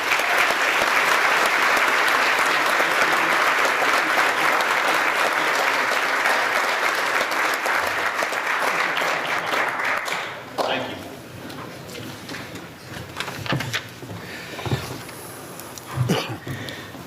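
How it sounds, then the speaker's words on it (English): A room full of people at a Board of Commissioners meeting applauds loudly and steadily for about ten seconds, then the clapping thins out into scattered claps and quiet room noise. "join me in giving him a round of applause for this."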